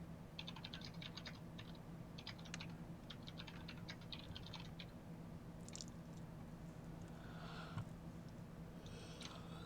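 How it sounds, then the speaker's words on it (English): Rapid clattering keystrokes on a computer keyboard come in bursts with short pauses over a steady background hum, moderately close and fairly quiet. "I hear all that typing"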